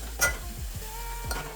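Chicken or mutton being stirred in a pan on the stove, with a few soft scraping strokes over a low steady sizzle, close and fairly quiet.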